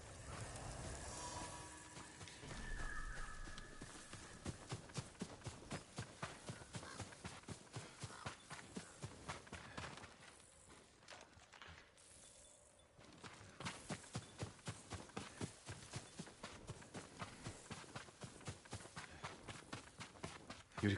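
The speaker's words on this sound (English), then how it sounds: "Yuriko's horse." Horse hooves in the Ghost of Tsushima game, a steady, rhythmic clip-clop of a walking horse, fairly quiet and continuous, briefly dipping midway before the regular beat resumes.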